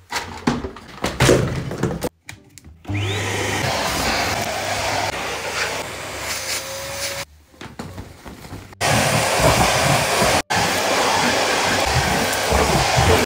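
Vacuum cleaner running steadily at close range while sucking up loose glitter indoors, its loud continuous whine broken by a few brief cutoffs and bumps.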